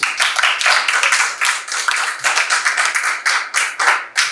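A classroom of students claps for a classmate, a steady run of fairly close, brisk hand claps lasting several seconds with no talking over it.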